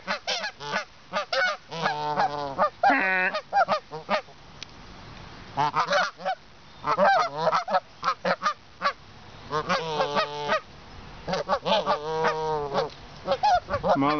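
A flock of Canada-type geese honks loudly on a golf course in Mission Viejo, with many overlapping nasal honks in irregular bursts, close by and with no talking.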